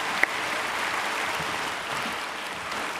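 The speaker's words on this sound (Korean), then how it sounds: "우리 공간을 은혜롭게 채워주신 우리 강사님께 다시 한번 더 큰 박수를" Applause fills a church after a guest speaker's sermon at a Sunday service, a steady dense clapping from the congregation that holds at an even level throughout with no voices over it.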